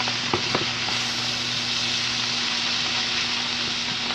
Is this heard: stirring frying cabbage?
yes